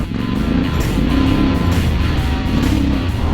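Yamaha Tenere 700 adventure motorcycle engine running steadily up close, a loud continuous drone with a low rumbling throb and slight rises in pitch, with no talk over it.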